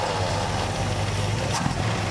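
A 1967 Buick GS 340 engine, pulled from abandoned and crushed condition, runs at a steady low idle with an even, continuous rumble close by and no revving.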